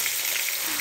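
Chicken fries in a pan with a brief, steady hiss of crackling oil, soft and close.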